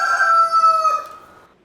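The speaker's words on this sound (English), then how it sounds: "Hen says cluck cluck." Rooster-like farm fowl call from a hen, one drawn-out harmonic cry about a second long fading off at the end, close and clear with no talk.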